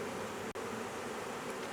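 Honey bees from a swarm buzz steadily at the entrance of a box set under a trampoline, with some fanning. The hum is soft and continuous, broken only by one very brief dropout.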